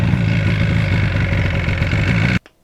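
A 1977 Yamaha RD400 two-stroke motorcycle engine runs loud and close with a steady, buzzing idle, then cuts off abruptly near the end.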